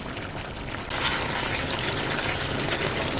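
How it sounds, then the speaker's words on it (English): Tamarind and jaggery mixture bubbling in a pan while cooking, a steady soft hiss and simmer that grows fuller after a moment, with no talking. "tamarind mixture with the jaggery has been cooking or bubbling for around 5 minutes"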